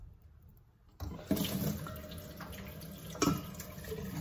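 A tap is turned on after a moment of quiet, and cold water runs steadily and fairly loudly, with a couple of clunks partway through.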